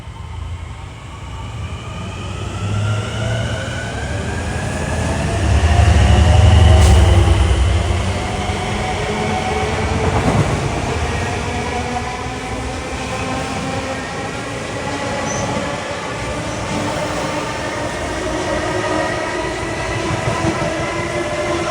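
A Long Island Rail Road train passes on track 1 at Garden City, heading east, its loud rumble swelling near the middle before settling into a steady roll with wheel clatter and a sustained high whine.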